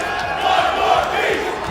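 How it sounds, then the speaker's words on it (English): Tournament crowd at a Yu-Gi-Oh card game event chanting loudly in unison, a dense roar of many voices filling the room. "With the arrival of the 4th piece, the room erupts chanting."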